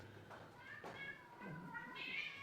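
A person imitates a cat's meow, making a few nasal, rising and falling mewing calls close by, amid a lesson on Arabic letters.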